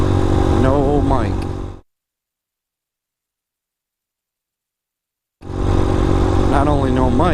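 A Hawk 250 motorcycle is ridden, its engine revving and rising through gears amid rushing wind, with a long stretch of total silence splitting the two loud bursts.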